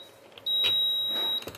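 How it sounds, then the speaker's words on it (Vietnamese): A Midea MI-B1920DM induction cooktop, faulty so it powers on but its buttons do not respond and it loses power, gives a single loud, steady high-pitched beep lasting about a second, close by. "Nó đang phát xung, nó đang tít tít đây các bạn ạ."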